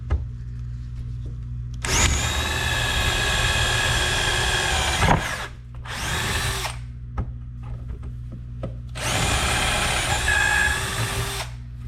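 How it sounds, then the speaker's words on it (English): A Bosch 12V cordless drill, eight years old, whines through a wooden board in three bursts, two long runs split by a short one, with grinding as the bit bites in. "Now let's go ahead and put some holes through this board."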